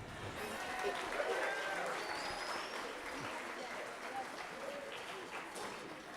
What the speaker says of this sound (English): How about a special round of applause for our beekeeper,